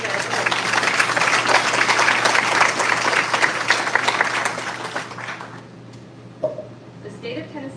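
An audience at a high school senior night ceremony breaks into loud, dense clapping for about five seconds; it then fades to a quiet room with faint voices.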